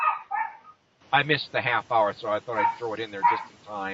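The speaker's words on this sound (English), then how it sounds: "that's my dog's barking." A pet dog gives two quick barks at the very start, then someone talks steadily through the rest on a Buffalo, New York open-mic radio broadcast.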